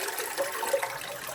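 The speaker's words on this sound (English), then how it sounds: "And flush the toilet." A toilet flushing in an apartment in France, a soft rushing gush and trickle of water heard from a short distance, fairly quiet and steady with no talking.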